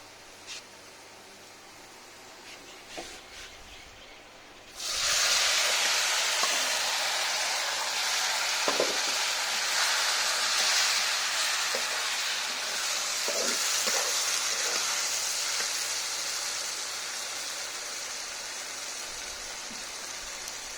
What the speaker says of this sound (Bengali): এখন আমি কাঁঠালটা তেলে ফেলে দেব।